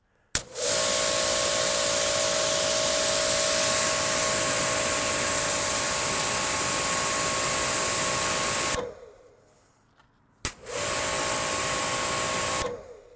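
An Active 2.3 pressure washer sprays steadily through a nozzle with a loud, close, broadband hiss and an underlying motor whine for about eight seconds, cuts off briefly, then starts spraying again.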